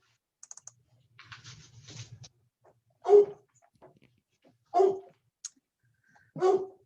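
A dog barks three times, spaced apart and fairly close, with some soft tapping like keyboard typing just before during an online ADA advisory group meeting.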